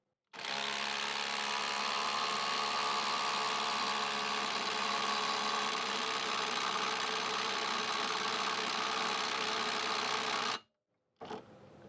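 A Hyper Tough 20 volt brushless impact driver runs continuously for about ten seconds, a loud, steady motor whine with rapid hammering rattle, then stops abruptly before a brief short burst.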